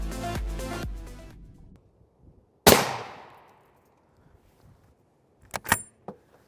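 Rifle rounds, including M2 AP and M80A1 loads, striking a Tacticon Armament NIJ Level IV armor plate: a single loud sharp crack with a ringing decay, then a quick double report later, with fainter clatter between.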